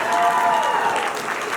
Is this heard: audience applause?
yes